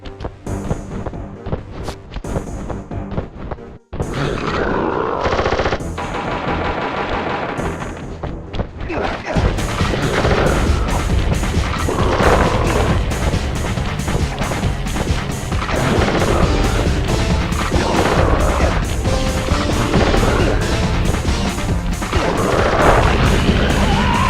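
Gunfire and crashing smashes ring out in a Sly Cooper video game fight, with a burst of loud thumps and booms under game music that swells and continues densely for the rest.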